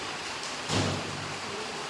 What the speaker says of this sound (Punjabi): ਤੇ ਬਹੁਤ ਜ਼ਿਆਦਾ ਮੀਂਹ ਡਿੱਗੀ ਜਾਂਦਾਗਾ ਮੀਂਹ ਨਾਲ